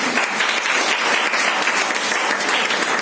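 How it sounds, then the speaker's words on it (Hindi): A seminar audience applauds loudly and steadily, with many hands clapping in a dense, continuous wash throughout. "तालियां होनी चाहिए ना"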